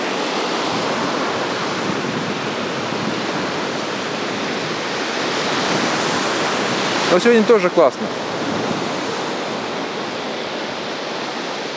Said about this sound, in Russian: ласкающий уши звук прибоя.